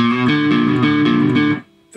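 An electric guitar with overdrive plays a dry lick with no reverb, a steady run of close, sustained distorted notes that cuts off abruptly near the end, followed by a short quiet gap and a brief return.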